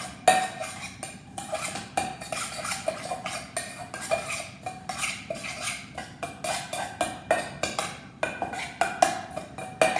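A pepper and salt dressing for a cucumber caprese salad is whisked in a bowl, producing steady rapid clinks and scrapes of utensil against dish that continue for the whole stretch, close and fairly loud with no talking.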